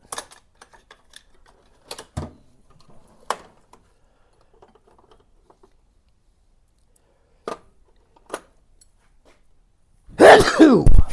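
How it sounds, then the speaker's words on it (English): A couple of sharp, sudden sneezes from dust burst out loudly near the end, after scattered faint clicks and small handling noises while working on an old 1961 Ford van's battery. "dust got to me, man. Making me sneeze."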